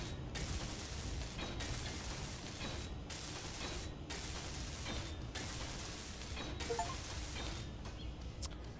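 Welding in the Space Engineers game makes a continuous mechanical whirring and grinding buzz, broken by short regular gaps about once a second, and holds at a steady moderate level.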